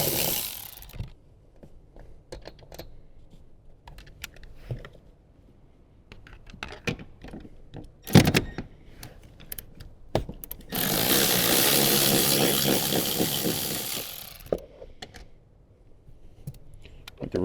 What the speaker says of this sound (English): Now we can take out the two 14mm bolts in the rear.